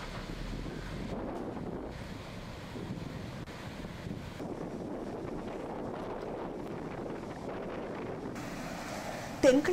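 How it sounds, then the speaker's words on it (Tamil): Strong wind buffets the microphone along the coast of Ampara, Sri Lanka, during a depression over the southeast Bay of Bengal, with rough sea surf blending into a steady, loud roar throughout and a sharper gust at the very end. "தென்கிழக்கு வங்காள விரிகுடாவில் ஏற்பட்ட தாளமுக்கம் காரணமாக அம்பாறையின் பல பிரதேசங்களிலும் கடும் காற்று வீசுகின்றது"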